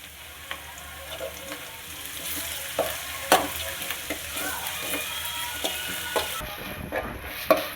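Onions fry with crushed ginger and garlic in a pan for liver fry, a continuous sizzle broken by irregular spatula scrapes and taps, fairly close and steady, with no talking.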